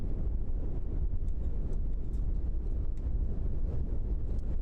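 Steady wind buffets the microphone at a plane-spotting spot at Christchurch Airport, a continuous low, rough rumble with no breaks throughout.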